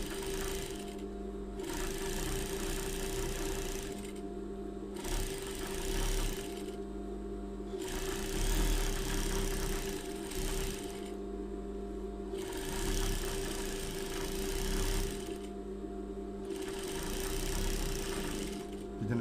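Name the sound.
zigzag sewing machine stitching a seam twice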